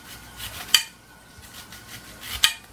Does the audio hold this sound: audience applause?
no